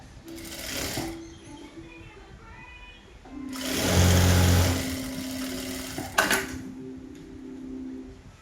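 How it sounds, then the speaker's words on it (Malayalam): Sewing machine stitching along a folded seam of cigarette-bottom straight pants, running in a short burst, a longer louder run and a brief third burst, with low hum and speech-like sounds between. "ഈ കട്ടിട്ട് കൊടുത്ത കറക്റ്റ് ആ ഫോൾഡിൽ വരുന്ന രീതിയിൽ നമുക്ക് സ്റ്റിച്ച് ചെയ്ത് കൊടുക്കാം"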